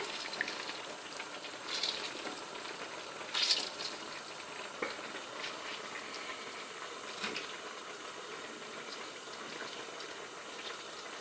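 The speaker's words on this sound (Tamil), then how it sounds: "இந்த ரைஸோட சேர்ந்து இந்த தண்ணி நல்லா ஒரு கொதி வந்துருச்சு" Water comes to a rolling boil with rice for a Chennai-style prawn biryani, a faint, continuous bubbling and simmering hiss with a few soft pops, heard alone without talk.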